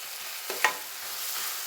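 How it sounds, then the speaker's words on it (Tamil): Tomatoes sauté in a pan for a crab curry, a soft continuous sizzle with a couple of quick stirring scrapes near the start. "தக்காளி இந்த அளவுக்கு வதங்கணும்"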